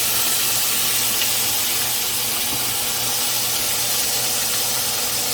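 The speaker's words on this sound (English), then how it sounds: "Sear it on both sides" A steak searing in a hot pan for a home Father's Day dinner, giving a steady, loud broadband hiss and sizzle that runs without a break and with no talking.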